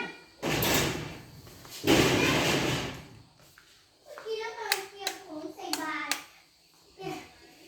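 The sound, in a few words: door being opened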